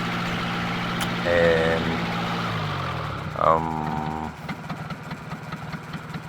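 A diesel engine idles steadily with a low, even rumble while someone talks over it, the engine having no EGR fitted and no visible valve seal or piston ring faults.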